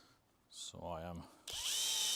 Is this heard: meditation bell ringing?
no